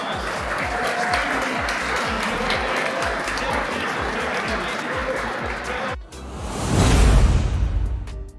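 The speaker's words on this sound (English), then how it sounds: "I hope you will give a huge round of" An audience at a Delaware culinary showcase in Washington DC claps in a dense, steady round of applause, followed by a sudden loud whooshing rush near the end.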